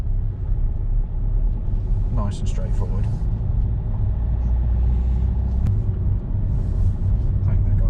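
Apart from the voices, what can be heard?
car driving around a junction in second gear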